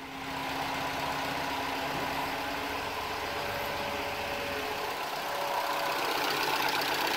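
A car engine that had been dropped idles steadily up close with a faint, slightly tappety rattle from the valvetrain. The hum stays even throughout, with no voices.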